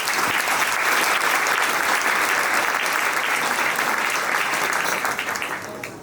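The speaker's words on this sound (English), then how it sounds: "I think you deserve a big applause." Loud, dense audience applause filling a room at a Eurocham Singapore sustainability award ceremony, steady throughout before tapering off in the final second.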